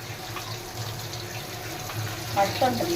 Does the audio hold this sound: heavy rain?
no